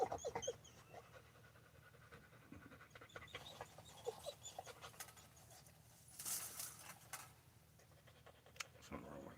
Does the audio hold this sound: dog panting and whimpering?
yes